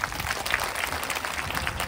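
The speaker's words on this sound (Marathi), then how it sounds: "एकदा जोरात टाळी वाजवा." Applause from a kirtan audience in Bhandup, a dense, steady clatter of many hands clapping together for about two seconds, moderately loud with no voices standing out.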